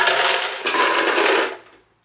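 Ice cubes tumble into a plastic blender jar, a dense clattering rattle lasting about a second and a half before fading out, close and fairly loud with no talking.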